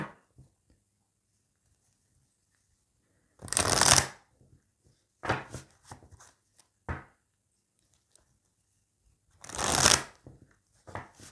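Tarot cards are shuffled in quick riffling bursts: two longer shuffles and a few short flicks separated by silence, close and clear with no talking.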